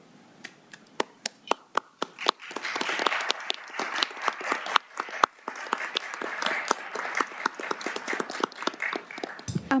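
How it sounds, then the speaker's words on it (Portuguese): Ministers, aides and lawyers applaud in a Brazilian Supreme Court plenary session, beginning with a few scattered sharp claps that swell into fuller, uneven clapping in a large hall. "Aplausos dos ministros e assessores e advogados presentes no plenário."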